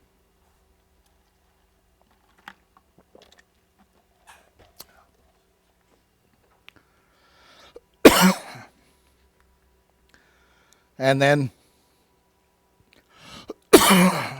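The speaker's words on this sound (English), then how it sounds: "coughing uncontrollably when talking about these things" Two bursts of harsh coughing a few seconds apart, near and loud, with a brief spoken phrase and quiet clicks before them.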